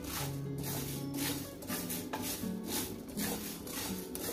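Whole spices dry-roasted slowly in a pan over a very low flame, with soft repeated scraping and clinking of a utensil against the pan, close and fairly quiet, without talk.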